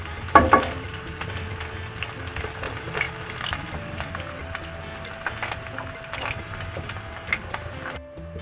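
Chopped onion hitting hot oil with ajwain in a pan, a sharp sizzle at the start settling into steady crackling frying with occasional stirring clinks, close and moderately loud.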